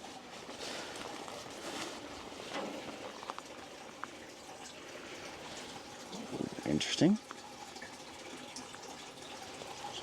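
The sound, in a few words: water running inside an abandoned cabin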